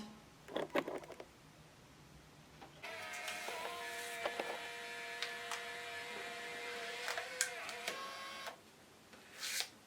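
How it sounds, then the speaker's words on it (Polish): An Instax mini Link 2 photo printer runs close by, giving a steady mechanical whir with a tonal hum that lasts several seconds. Short clicks come before and after it. "Żeby wydrukować wystarczy nacisnąć."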